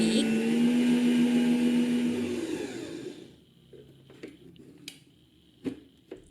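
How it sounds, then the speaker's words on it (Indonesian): An electric hand mixer at high speed whisks egg whites toward soft peaks with a loud, steady whirring hum. The motor cuts off after about three seconds, followed by scattered light knocks and clicks. "selanjutnya naikkan kecepatan mixer pakai speed tinggi. Mix terus sampai kocokan putih telur soft peak."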